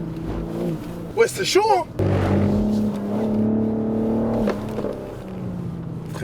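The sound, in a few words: car accelerating for a first drift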